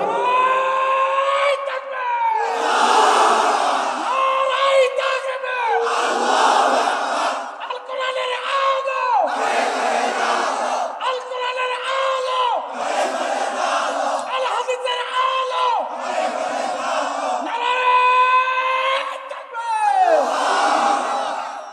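A large crowd at a religious gathering shouting takbir, "Allahu Akbar," in loud, repeated bursts answering a leader's voice, roughly every two to three seconds, the leader's call opening each round.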